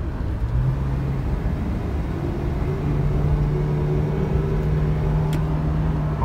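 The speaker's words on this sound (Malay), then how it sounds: "saya nak potong kenderaan tu, jadi kita tolak ke gear 3" A car shifted into third gear to overtake another vehicle accelerates with a steady engine drone whose pitch gradually climbs, heard from inside the cabin over constant road rumble.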